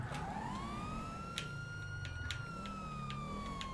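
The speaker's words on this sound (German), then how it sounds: "Ich muss mal noch Custom Sirenen hier installieren." A police siren in the video game GTA with the LSPDFR mod wails steadily and rises in pitch. The engine rumbles underneath, and no voices are heard.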